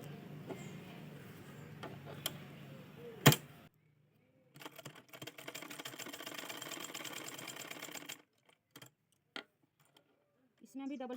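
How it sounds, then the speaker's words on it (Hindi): A sewing machine stitches a blouse shoulder seam in a steady mechanical run of several seconds, followed by short bursts, with a voice heard beforehand. "शोल्डर को पहले मिला करके सिलाई लगाती हूँ"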